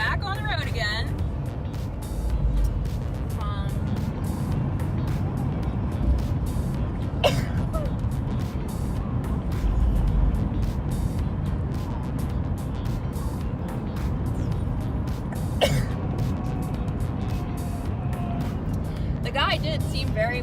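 An RV cruises along the interstate with a continuous low road rumble and engine drone, while people inside talk and cough over it throughout.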